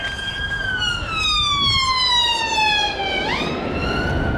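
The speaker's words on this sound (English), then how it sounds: "Ambulance already wailing its siren out at this time." An ambulance siren wails loudly nearby, its tones sliding slowly downward and then sweeping back up, heard outdoors during a litter pick in a pit.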